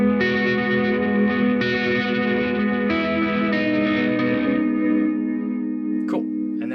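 Electric guitar played through a Mood Swing effects pedal on its first chain, sustained distorted chords with chorus-like shimmer and echo, loud and close, ending with a few quick pitch-bending squeals.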